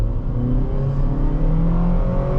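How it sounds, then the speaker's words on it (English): A 2010 Honda CR-V LX accelerating hard from a standstill in a 0 to 60 run, the engine note climbing steadily in pitch, loud and close, with no talking. "let's go do our quick 0 to 60 test, our Mexico test, and see what numbers this CR-V can do"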